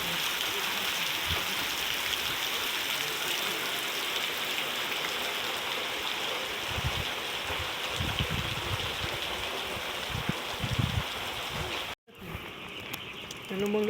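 Steady rain falls over the Konkan countryside, a continuous broadband hiss of drops that runs without pause, with faint voices and a few low thumps underneath and a brief cut-out near the end.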